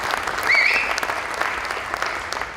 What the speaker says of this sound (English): Can we get a round of applause for Mo Levin and Keynote Events